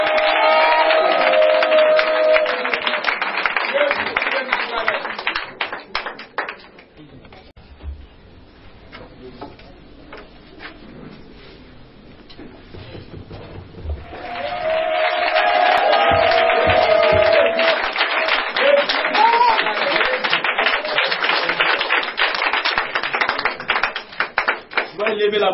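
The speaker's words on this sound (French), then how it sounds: "on se tient debout, on acclame le Seigneur" A church congregation applauds and cheers in loud, dense, continuous bursts, with voices shouting among the clapping; it drops to a quieter stretch in the middle, then swells back to full volume.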